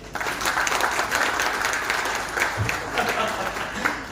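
Audience members at a poetry event with a touring poet clap together in a sustained, fairly dense round of applause, with a voice speaking faintly over the clapping.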